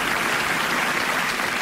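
An audience of about two thousand people applauds, a dense, loud, continuous roar of clapping hands that fills the whole moment without any talk.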